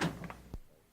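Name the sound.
door opening, audiobook sound effect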